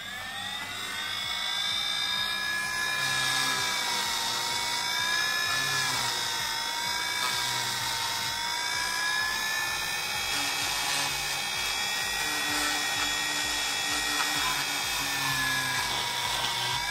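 A Dremel 3000 rotary tool engraving lettering, running steadily at high speed with a loud, continuous whine that shifts slightly in pitch as it bites, alone with no talk.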